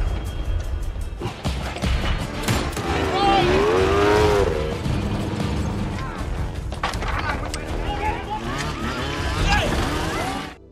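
A film car chase plays loud and busy, with roaring engines, screeching tires, impacts and crashes layered under a voice talking over the action.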